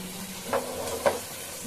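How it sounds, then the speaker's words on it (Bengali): Ground spices sautéing in a pan, a quiet steady sizzle with two brief scraping stir strokes, close and soft. "এখন এগুলোকে কষিয়ে নেব"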